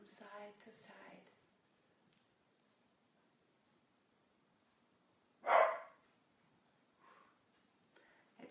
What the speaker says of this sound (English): It's scary outside if you're a little doggy.